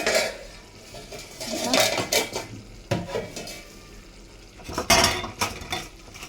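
A lid lifts off a pot of ivy gourd and tomato curry and coriander goes in, bringing close clattering of metal cookware and utensils in uneven bursts with a faint sizzle underneath.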